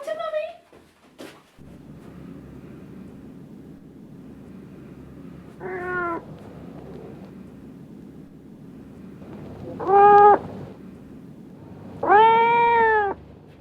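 A cat meows several times from close by, with a short cry near the start, then separate calls at about 6, 10 and 12–13 seconds over a steady low background hum.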